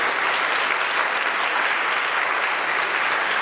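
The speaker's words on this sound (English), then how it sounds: "how about another round of applause for Ms. Julie Jones," Sustained applause from a seated audience honoring Julie Jones at an event with Jackie Joyner-Kersee, steady and dense throughout with no break.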